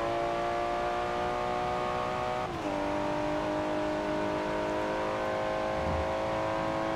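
A Liberty Walk GT-R race car in Forza 7 holds a steady, loud engine drone, with a quick gear-shift dip partway through before the engine settles to a lower pitch.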